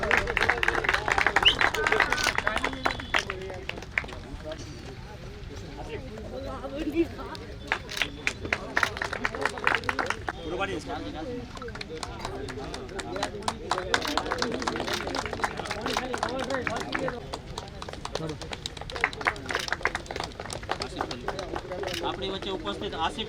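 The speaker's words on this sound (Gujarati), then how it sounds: "તાળીઓ થઈ જાય બંટીભાઈ માટે" A crowd at a Valmiki Premier League cricket tournament breaking into scattered, uneven clapping for Bunty bhai, mixed with busy chatter and an announcer's voice over a PA, loud and continuous.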